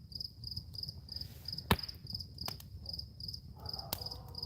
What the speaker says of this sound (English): I was enjoying the crickets there for a minute and the crackling fire.